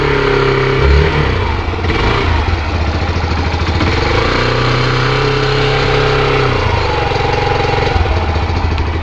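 A Yamaha YBR motorcycle engine runs at a loud, close, steady idle, a continuous throbbing exhaust note with a slight rise near the start, and no one talking over it.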